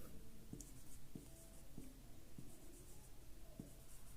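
A pen scratches across a board in five short, evenly spaced strokes, close and quiet over steady room hum, with no one talking.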